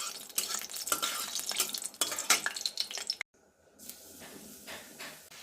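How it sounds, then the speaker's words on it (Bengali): Dry red chillies and black cumin fry in hot oil in a pan while cooking spinach, giving a crackling sizzle with scraping and stirring clatter, then a brief cut and a quieter, steadier sizzle. "তেল গরম করে এর মধ্যে আমি দুটো শুকনো লঙ্কা দিয়ে দিচ্ছি"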